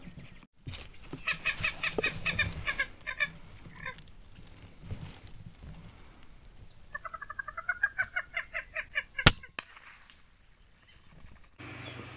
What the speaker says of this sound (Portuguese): Essa galinha d'água, ela tava no meio do açude